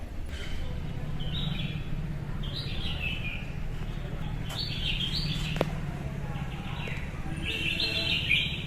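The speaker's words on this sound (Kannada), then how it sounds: "ನಮ್ಮನೆ ಬಾಲ್ಕನಿಗೆ ಟಚ್ ಆಗಿ ಒಂದು ಮರ ಇದೆ ಹಕ್ಕಿ ನೋಡಿ ಹೋಗ್ತಾ ಇದೆ" From a tree touching a home balcony, a bird gives bright, repeated chirps in short bursts every second or two, fairly close, over a low steady hum of background noise.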